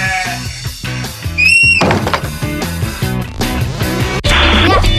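A sheep's bleat rises above loud, rhythmic background music that plays throughout.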